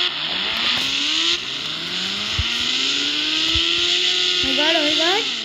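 Motorbike engine in the mobile game Indian Bikes Driving 3D, revving loudly and steadily with rising pitch sweeps and quick throttle blips near the end, alone without talk.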